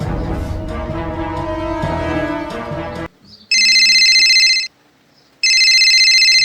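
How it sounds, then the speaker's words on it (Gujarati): A telephone rings in two loud electronic bursts separated by a short pause, following a stretch of dense music in a Gujarati comedy scene. "મયાનો ફોન"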